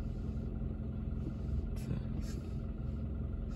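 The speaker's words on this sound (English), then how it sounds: "People playing in the snow, burning out." Cars drifting and doing burnouts in snow, heard as a continuous low engine rumble with steady road noise, without clear revving peaks, under faint speech.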